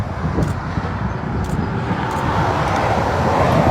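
A blue Scania truck rolling past on the M5 motorway near Cullompton, a continuous broadband road roar that builds slightly toward the end, with steady traffic noise around it and no talking.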